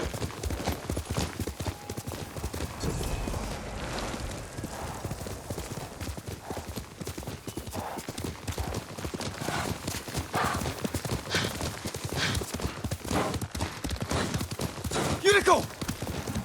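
Horse hooves pound in a fast galloping rhythm in the video game Ghost of Tsushima, loud and continuous, with a horse whinnying near the end and voices speaking over it.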